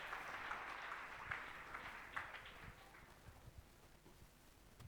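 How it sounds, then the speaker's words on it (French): Congregation applauding during a Sunday church service, a steady wash of clapping with scattered louder claps that thins out toward the end, heard at moderate distance. "Acclame Jésus pour sa vie."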